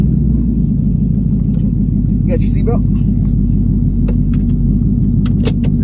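A car cruising around Carson, its steady low engine and road rumble filling the cabin throughout, with occupants talking briefly over the drone and a few light clicks near the end.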